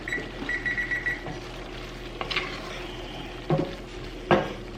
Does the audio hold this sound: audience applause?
no